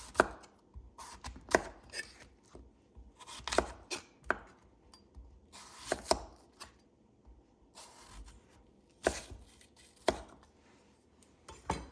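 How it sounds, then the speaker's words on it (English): A knife cuts fruit into thick slices on a cutting board, producing a series of sharp, irregular chops close by with quiet pauses between them, no talking. "now I'm going to just make some pretty thick slices"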